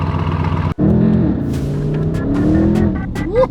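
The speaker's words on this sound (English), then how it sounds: "So that's what it sounds like with the valves open." An 1100-horsepower Audi RS6 Avant revs with its exhaust valves open, a loud close roar that cuts out briefly and then surges back as a sustained throaty blare, climbing again near the end.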